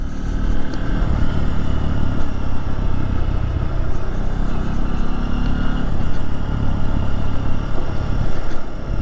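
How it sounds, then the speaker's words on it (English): A 2023 Honda XR150L motorcycle ridden off-road over choppy ground, its engine droning loud and steady close by, with a continuous low rumble and rattling clatter and no pauses. "This motorcycle feels very at home through here."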